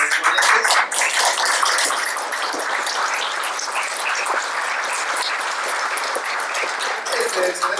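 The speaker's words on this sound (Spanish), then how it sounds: "un aplauso para los ponentes" Loud, sustained applause from an audience honouring the speakers at a community water-school gathering in San Lucas, a thick, even wash of many hands clapping close by from start to finish.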